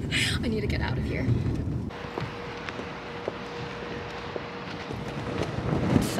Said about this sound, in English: It's so windy. This is very tough.